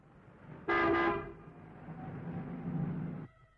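A train horn sounds loud and near with a sharp burst, then the rumble of a train pulling into a station carries on for a few seconds before cutting off.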